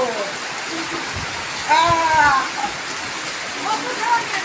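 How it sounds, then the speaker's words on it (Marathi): Rain falls on plants and garden surfaces during the first monsoon shower in Konkan, a steady close hiss of drops, while a voice speaks briefly over it. "त्या टंचाईमध्ये हा पाऊस पडतोय"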